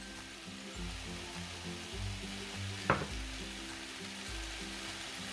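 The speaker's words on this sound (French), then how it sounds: "Et on mélange bien jusqu'à incorporer l'œuf." Egg being stirred into nem (spring roll) filling of coriander and other ingredients in a hot pan, a steady sizzle with a soft scraping stir and one brief clack midway, close and alone.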